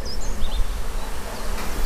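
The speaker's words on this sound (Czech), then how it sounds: "V tuto dobu může být ve jednom včelstvu takových 15-20 tisíc včel." Honeybees buzzing in steady, dense hum at an apiary hive, a continuous close drone over about two seconds with a few brief higher insect whines passing.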